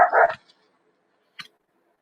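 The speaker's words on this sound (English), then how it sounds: "I don't know why my dog's barking" A dog gives one short, sharp bark close by, followed by a fainter yip a moment later in otherwise quiet surroundings.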